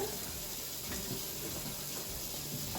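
Tap water runs steadily into a kitchen sink as hands are washed after chopping ingredients, a continuous close hiss and splash with no talking.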